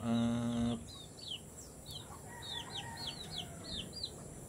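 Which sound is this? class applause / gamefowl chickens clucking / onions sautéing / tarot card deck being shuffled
gamefowl chickens clucking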